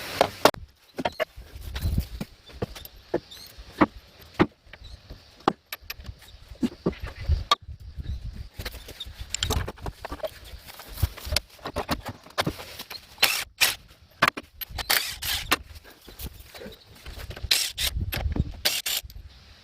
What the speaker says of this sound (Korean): 다음엔 이제 여기 있는 볼트 4개 이거 분리해야겠습니다